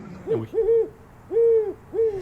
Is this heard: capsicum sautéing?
no